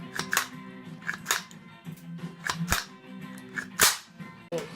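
A WE XM177 gas blowback airsoft rifle fitted with a real steel spring and buffer fires BBs in several separate sharp cracks, spaced irregularly over a few seconds, close and fairly loud against a quiet background.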